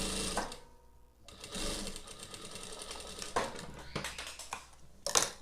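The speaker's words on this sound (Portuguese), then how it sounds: "fazer uma costura, colocando o zíper rente com o sintético, dando um retrocesso no começo e um retrocesso no final." Sewing machine stitching a zipper onto synthetic fabric, close and moderately loud, in short bursts of rapid stitching separated by brief pauses, with a quick backstitch at the start and end.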